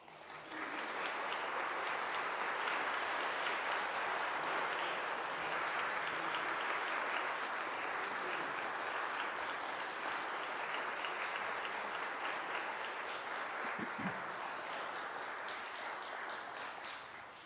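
A lecture audience claps steadily and warmly after the talk ends, a dense sustained wash of applause lasting many seconds before tapering off.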